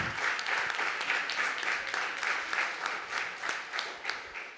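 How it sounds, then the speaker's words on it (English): An audience at a summit breakout session applauds a panel, a steady wash of many hands clapping at moderate distance that carries on for several seconds and eases slightly at the end. "Give yourselves a clap as well"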